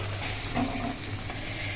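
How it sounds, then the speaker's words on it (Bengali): Banana slices fry in a pan with a faint, steady sizzle and light crackle, alone and without talking. "এই দেখো বন্ধুরা কোনো রকম কলা কটা কিন্তু ভাজা হলো, এখনো কিন্তু টিপটিপ করছে।"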